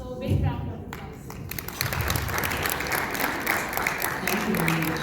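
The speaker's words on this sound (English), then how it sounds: "So big round of applause." Applause from the audience at an American Muslim fundraising event in the USA, dense clapping running steadily throughout, with voices heard faintly beneath it at the start.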